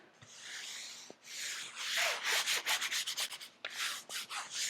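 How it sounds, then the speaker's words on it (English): Covering material is rubbed down by hand onto board while a drop spine book box is being assembled. The sound is a close, dry, rasping scrub in quick back-and-forth strokes that grow faster and more rhythmic toward the end, with no talking. "So I'm just going to rub that down a little bit."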